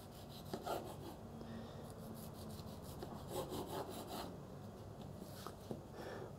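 A knife slicing a nectarine into strips on a board for a streusel cake, giving soft, repeated rasping cuts at close range in a quiet kitchen.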